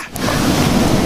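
Cold surf of the Pacific Ocean washing onto a beach, a steady broadband wash with wind buffeting the microphone, loud and close, no voices.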